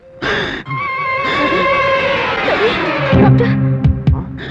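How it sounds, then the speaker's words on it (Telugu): A heartbeat sound effect in a Telugu comedy movie scene, a steady deep throbbing pulse under a droning hum, followed by a few sharp louder thumps near the end. "గుండె కొట్టుకుంటోంది."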